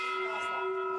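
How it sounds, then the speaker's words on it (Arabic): A boxing bell rings to open the third round of a professional fight in Dubai, a single clear metallic tone that holds steady and rings on without fading through the short moment. "جرس البطوله"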